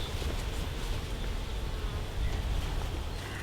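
Honey bees swarm and buzz steadily around an open hive during an inspection, a dense, continuous droning hum close by with no talking.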